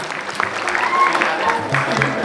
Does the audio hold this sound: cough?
no